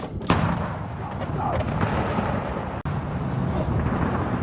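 U.S. Marines fire an M777 towed 155mm howitzer with live rounds during an exercise; a single heavy blast opens near the start, followed by a long rumbling roll and outdoor noise, with a second sharp report later.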